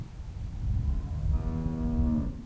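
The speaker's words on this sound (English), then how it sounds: "How's the cow?" A cow lows in The Walking Dead video game, one long drawn-out moo that swells and holds near and loud over a low background rumble, with no talk.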